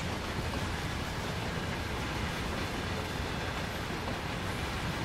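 Steady, dense rolling rumble of a long line of train wagons passing close by on a Clinchfield Railroad route in the Train Sim game, a continuous broadband roar with no distinct pauses.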